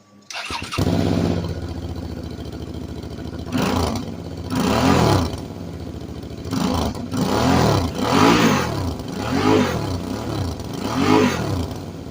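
A 2008 Suzuki V-Strom DL650 motorcycle with a modified exhaust cranks and fires up close by, then settles into a loud idle broken by several rhythmic throttle blips that swell and fall back.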